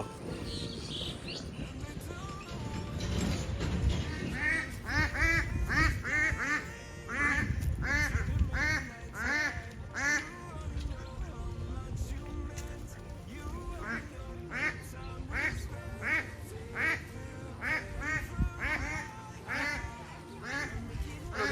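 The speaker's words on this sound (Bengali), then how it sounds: "হাঁস ওই দেখ" Ducks quack in repeated bursts outdoors in a rural setting beside a tractor, clear and fairly close, with people talking and moving around them.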